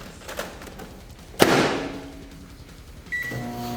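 A microwave oven hums with chips inside, then a sharp crackling burst flares up and slowly fades, followed by a beep and renewed humming, with no talk over it.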